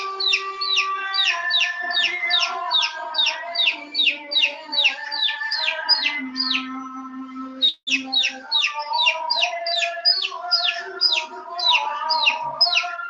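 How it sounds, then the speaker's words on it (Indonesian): A chicken sound plays in the Assemblr EDU app: rapid, repeated clucking and chirping calls in a steady run, clear and close, with no talking over it. "Nah, sudah terdengar suara ayam."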